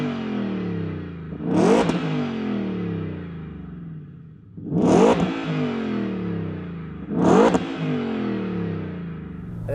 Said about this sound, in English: we got black tailpipes. Yes. Exhaust tips. Yep, and they still sound pretty good.